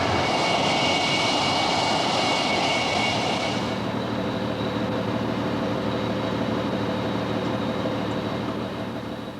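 Twin engines of an English Electric Lightning jet roar loudly and steadily, a broad rushing blast that eases off after a few seconds into a sustained lower drone with a thin high whine.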